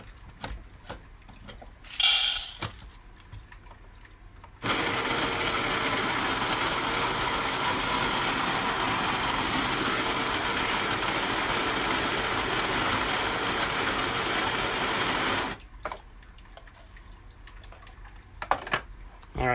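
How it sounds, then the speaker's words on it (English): Coffee beans grind in a grinder for about eleven seconds as one loud, steady, continuous burst, with quieter handling noises and brief clatter before and after. "Pardon me a moment while I grind some more coffee real quick."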